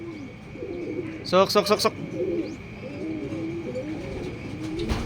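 Racing pigeons coo softly close by during smash training, with a burst of chirpy calls in the middle and low murmuring throughout, as someone speaks a short word over them.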